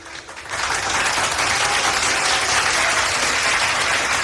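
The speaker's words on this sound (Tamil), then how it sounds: "அதனால் தயவு செஞ்சு நீங்களே ஒரு தடவை கைத்தட்டிருங்க." Audience applause at the Star Awards 2025 ceremony, a large indoor crowd clapping loudly and steadily, swelling after a brief softer start and holding dense and continuous to the end.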